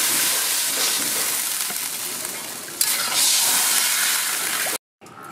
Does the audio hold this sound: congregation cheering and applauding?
no